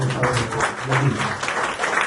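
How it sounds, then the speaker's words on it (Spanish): A church congregation applauds loudly for the Lord during an evangelism sermon, a dense wash of clapping under a voice calling out over it. "dale un aplauso bien fuerte al Señor"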